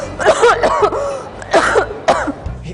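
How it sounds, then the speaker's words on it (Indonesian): A woman with a fever coughs repeatedly in several close, harsh bursts with some throat clearing, heard alone without speech. "Dari tadi aku nggak berhenti batuk, kayak badan aku juga demam."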